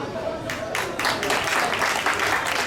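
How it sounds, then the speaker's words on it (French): Audience clapping at a public event, a brief burst of applause rising quickly and holding steady, fairly close, with a voice talking faintly underneath. "Encore une fois, on peut applaudir pour Mutombo pour cette très bonne et magnifique question."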